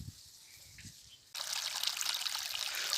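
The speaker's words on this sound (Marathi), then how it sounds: "सोलरवरच्या बोरचं पाणी इथं चालू आहे" Water from a solar-powered borewell suddenly starts gushing from a pipe after a quiet moment, then pours steadily and splashes nearby.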